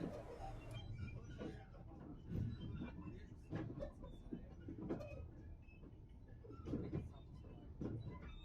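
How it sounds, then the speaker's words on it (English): A Chinese-built passenger train runs over rough track between Skopje and Prilep in North Macedonia, giving a low continuous rumble with irregular knocks and rattles from the rails and carriage, all fairly quiet. "as you might be able to tell from the noise, the train is struggling a bit with the track quality"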